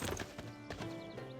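A horse unit moves in Civilization 6, its hooves clip-clopping in a quick, uneven rhythm at low volume, with a faint whinny-like texture and no talking.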